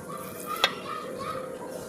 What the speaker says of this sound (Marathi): आता मी परतून घेते.